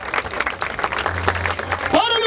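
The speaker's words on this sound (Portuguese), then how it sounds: "Palmas pra esse round!" Crowd at an outdoor rap battle in Barueri, SP, cheering and clapping for a round while an MC's voice carries over the noise, steady and loud throughout.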